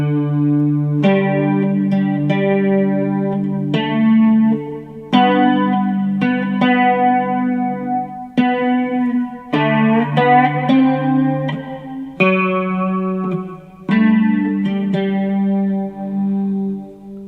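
Cigar box guitar, a three-string fretless instrument, played with a slide on the high string, picking out Oh Christmas Tree slowly as a sustained, gliding melody of plucked notes with bright harmonics and gaps between phrases, close and alone.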